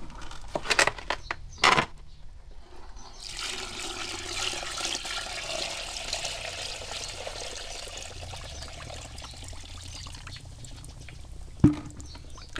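Wood ash and water mixed in a container, with a couple of brief splashy knocks at the start, then a long steady watery swirl and pour, ending in one sharp clunk.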